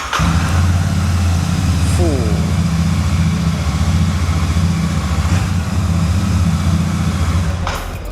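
A Triumph Trident 660 motorcycle, nearly new with under 500 km, runs with a steady low engine rumble held at a restrained level for the whole stretch, with faint voices and a brief chirp in the background.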